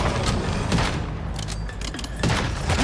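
Mortar fire in an online MMO game striking the player: a dense, loud burst of booming impacts and crackling blasts, with rumbling echoes rolling through the whole stretch.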